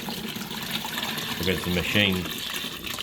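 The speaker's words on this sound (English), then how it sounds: "up here is where we fill the water, and we can only use distilled water" Distilled water pours into the reservoir of a dental autoclave, a steady splashing trickle running under a man's speech.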